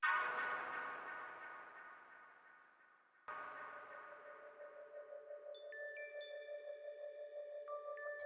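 Soft, airy synth pads swell and fade, then a second sustained tone enters with a gentle pulsing shimmer and thin high sparkles layered on top.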